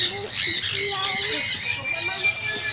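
Birds squawking at a safari park in Cebu, a run of harsh, loud repeated calls close by, with people chatting over them.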